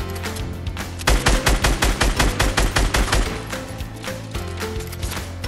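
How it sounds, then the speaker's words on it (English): A rapid, evenly spaced string of loud gunshots rings out in a Fortnite Battle Royale match, roughly a dozen sharp punchy reports in about two seconds, then trails off into quieter background noise. "Someone else is shooting up"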